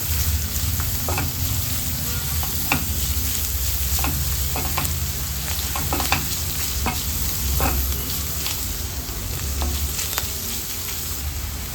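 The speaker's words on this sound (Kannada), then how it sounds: "ಇದೊಂದು 5 ನಿಮಿಷ ಫ್ರೈ ಮಾಡ್ಕೊಳ್ಳೋಣ." Grated carrot fries in a pan with only a little oil, a steady close sizzle broken by repeated scraping stirs of a spatula against the pan, with no voices.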